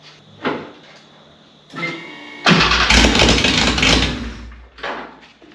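A vintage Porsche 911 Targa engine cranks and fires up with a loud, rough exhaust roar, then settles toward an idle; close and loud, no talking.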